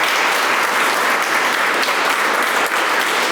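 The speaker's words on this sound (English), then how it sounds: "Give a round of applause to the city for doing that." Steady, dense audience applause fills the room at a recreation center ribbon-cutting ceremony, loud and continuous without a break.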